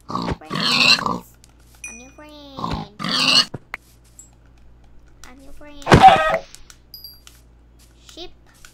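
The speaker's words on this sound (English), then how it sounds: "Oh, piggies, come here." Short grunting oinks from Minecraft pigs come in bursts, with someone talking loudly between and over them and a few soft chimes.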